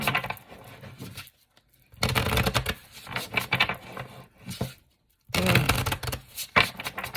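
Playing cards being shuffled by hand during a card reading, coming in separate bursts of riffling and patter with quiet pauses between them, close and alone with no talking.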